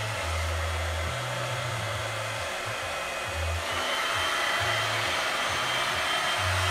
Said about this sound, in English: I have the luxury of a hairdryer